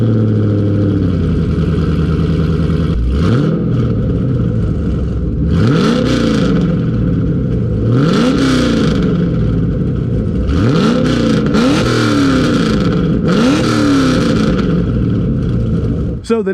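A 2010–2015 fifth-generation Chevrolet Camaro SS V8 fitted with long tube headers, revved hard in repeated loud throttle blips that rise and fall over a deep idle, close by, with a voice speaking briefly under the engine.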